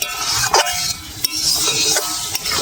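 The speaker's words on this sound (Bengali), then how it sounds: "বারবার নাড়তে হবে," A thickening tomato mixture for tomato fruit leather is stirred in a pan with several close, scraping strokes over a low sizzle. The strokes fall at an uneven pace.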